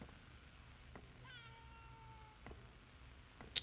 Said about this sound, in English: these cat noises are honestly getting a little annoying